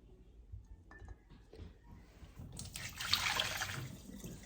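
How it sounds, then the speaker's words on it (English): Glass canning jars lifted out of a hot water canner beside a sink, with soft clinks of glass and dripping, sloshing water building to a brighter splash near the end, close by. "So I'm gonna go ahead and pull 2 jars so I can get them both full and back in the hot water."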